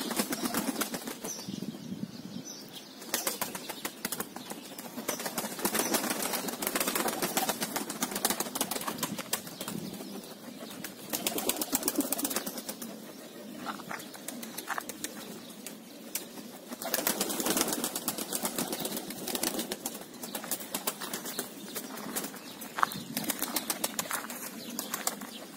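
Pigeons being trained to a new loft site flap their wings in a steady, dense rustle for nearly half a minute, fairly close, with no clear cooing.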